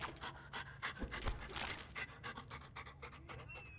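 A dog pants in the Deceit 2 video game, rapid rhythmic breaths repeating steadily across the whole span, close and fairly loud, with a low hum underneath.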